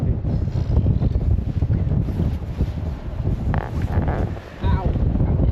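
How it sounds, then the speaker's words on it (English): Strong wind blows outdoors, a loud continuous roar buffeting the microphone with gusty surges and a brief lull near the end, while a person speaks over it. "It's really windy. It's really windy."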